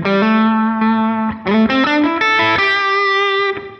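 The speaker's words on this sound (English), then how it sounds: "Almost like I stepped on some sort of overdrive pedal when I turned that attenuation off." Electric guitar played through an amp modeled on a Helix/HX unit with the input pad switched off, giving a loud, overdriven, crunchy tone on a string of sustained notes and chord changes, close and without talk.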